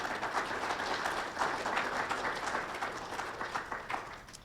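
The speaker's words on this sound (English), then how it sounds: "All right, so let's give him a round of applause." An audience at a 2020 training session applauds, a dense and steady wash of clapping heard fairly faintly throughout the short stretch.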